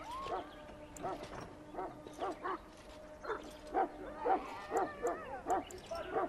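A Mabari warhound in Dragon Age Origins gives a run of short, spaced barks and yips, some whining, fairly close and moderately loud, with a steady tonal hum behind.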